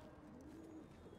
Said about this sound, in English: Glad to see birds still nest in these old walls.